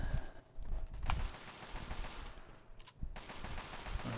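Turret gunfire in Fallout 3, a steady mechanical rattle of automatic shots running through nearly the whole stretch with brief gaps, moderately loud and dense, with no talking.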